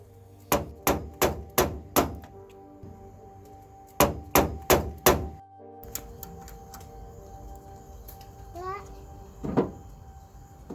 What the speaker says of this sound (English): flatten the cable limiter